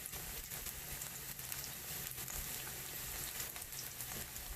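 Marinated steak dropped into a pan of hot bubbling butter, giving a steady, dense sizzle and crackle that stays even throughout, close and fairly quiet with no talking.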